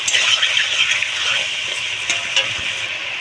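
Rui fish curry with ridge gourd and turmeric being sautéed in hot oil, a loud continuous sizzle and hiss with a few clinks of stirring, close up and without speech.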